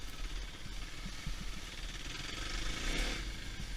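Torquey dual sport motorcycle engine climbing a single track trail, a steady low mid-range drone that swells slightly louder near the end, close and continuous with no talking.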